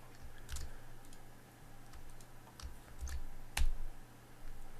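Computer keyboard typing and clicking, faint and scattered, with irregular light keystrokes and a few sharper clicks over a low hum, no voices.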